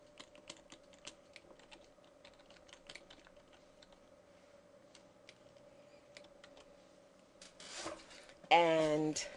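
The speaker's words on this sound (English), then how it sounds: "I think I'm going to type here." Light, scattered taps on a computer keyboard click faintly in a quiet room, irregular keystrokes spread over several seconds before a louder rustle and a brief burst of voice near the end.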